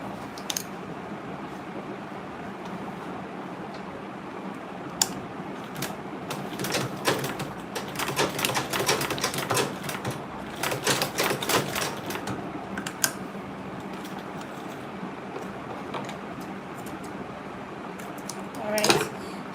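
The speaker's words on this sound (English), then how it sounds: "And I'll sew this other part too." A sewing machine runs in bursts of rapid mechanical stitching through Ankara fabric for a tote bag with a front zipper, busiest in the middle and quieter toward the end, with some speech nearby.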